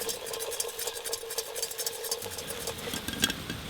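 Popcorn kernels cooking in a pan over an open fire, giving a steady crackling, stirring-like sizzle with scattered small pops and ticks throughout, moderately quiet and without voices.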